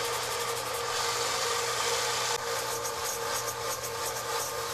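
Abrasive rasping on a fiberglass micarta knife handle being shaped, a loud continuous scraping grind at close range that shifts texture partway through, with no voices.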